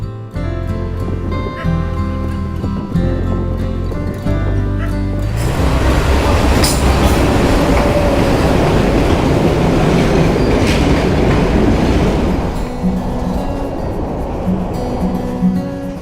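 A train in Sri Lanka, near Angulana station in Colombo District, rolls loudly along the rails with a heavy, continuous rumble and rhythmic clatter that swells and then eases.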